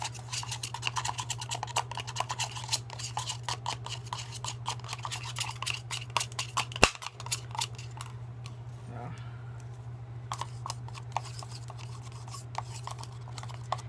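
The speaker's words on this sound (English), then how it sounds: "I'm going to stir it." A utensil stirs a room-temperature soap mixture in a container, quick scraping and ticking strokes repeating rapidly over a steady low hum, with one sharp knock midway and a short pause.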